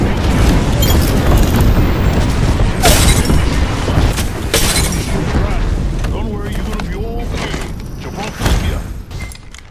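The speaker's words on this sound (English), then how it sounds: "Calling the airstrike." Loud, dense barrage of airstrike explosions in Apex Legends, rolling booms and bursts stacked one after another over about ten seconds, with voices talking over the blasts.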